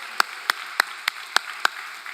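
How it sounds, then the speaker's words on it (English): Slow, evenly spaced handclaps at a tech summit honoring the finalists, six sharp single claps in a steady rhythm, close and distinct against a quiet background, sounding like only a few hands rather than a full crowd. "Big round of applause."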